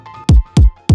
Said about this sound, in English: This right here is the kick.